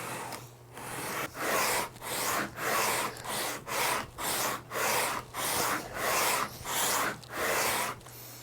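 A guitar fretboard radiused by hand with 40-grit sandpaper on a file sander, giving a rhythmic series of about a dozen coarse rasping strokes, close and loud with brief pauses between strokes.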